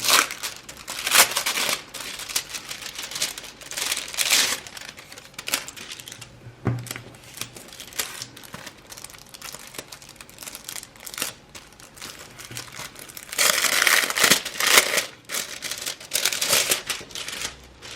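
Packets of planner stickers from a UK shop are torn open by hand, giving close, bursty crinkling and rustling of plastic packaging that comes in uneven waves with short pauses.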